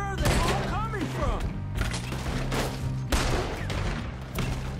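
Rapid gunfire from the video game Red Dead Redemption 2 crackles in repeated sharp bursts over a low background rumble. A voice speaks briefly between the shots.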